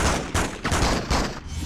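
Rapid bursts of gunfire in the 2004 Spider-Man 2 video game, several loud, close cracks in an uneven rhythm over a dense game soundscape.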